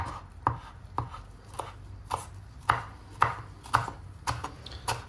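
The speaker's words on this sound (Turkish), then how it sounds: "Bu şekilde ince ince doğrayarak devam ediyoruz." Steady knife chopping of parsley on a cutting board, about ten crisp sharp strikes at a fairly even rhythm, close and clear with no talking.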